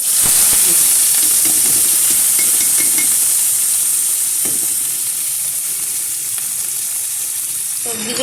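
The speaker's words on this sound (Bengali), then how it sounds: "ভালো করে ভাজা ভাজা করে নিচ্ছি।" Chopped carrot, onion and cauliflower fry in hot oil with a loud, continuous sizzle and bright hiss, plus a few stirring knocks. No one speaks.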